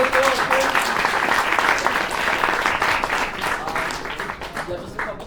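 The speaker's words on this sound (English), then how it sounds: "Round of applause, please." Audience applause at the end of a workshop, a steady wash of clapping from a small room that carries on for several seconds and thins slightly toward the end.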